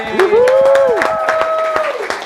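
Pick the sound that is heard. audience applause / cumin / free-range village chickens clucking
audience applause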